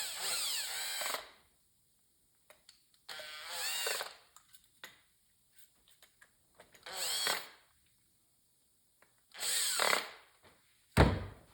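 Power screwdriver driving screws into a Mikuni carburetor, several short whirring bursts about two seconds apart with small clicks and taps from handling between them, close and fairly quiet, no talk.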